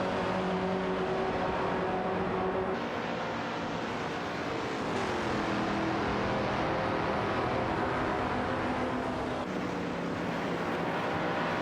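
Race cars in a computer-driven racing video game whine past together, a continuous layered engine drone with shifting pitches as several cars jostle for position, no talk present.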